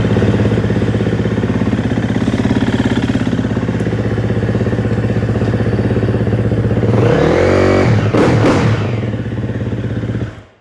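A 2014 Honda CRF450 dirt bike engine fires up from freezing cold with no choke, settling into a loud, steady idle with rapid thumping pulses, then a burst of sharp revving and clatter near the end.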